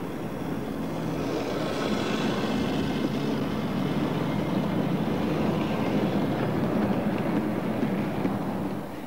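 An HO scale model goods train runs on a Continental layout with overhead traction wires, giving a steady close rumble and rattle of wheels on track that holds at an even loudness throughout, with no talk.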